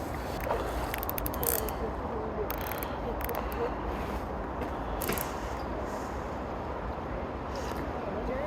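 A fishing reel is wound on a rainy family fishing trip, giving soft, irregular ratcheting clicks in short bursts over the steady patter of rain, with some talking nearby.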